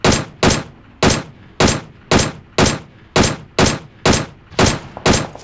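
Rapid bursts of gunfire in the battle-royale game PUBG during a duo-versus-squad fight at a bridge, eleven loud, evenly spaced shots about half a second apart, alone with no talk.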